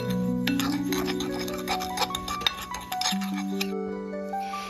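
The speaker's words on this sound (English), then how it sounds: "So now we will be stirring until combined." A spoon scrapes and taps around a bowl while granulated sugar, cinnamon and pumpkin pie spice are stirred together for pull-apart bread, a steady close clinking with bright ringing tones over the stirring.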